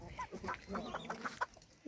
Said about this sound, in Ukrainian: У нас тут пасуться кури під ним і ждуть, коли він почне вигрібати корм.